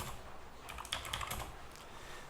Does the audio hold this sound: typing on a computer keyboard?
yes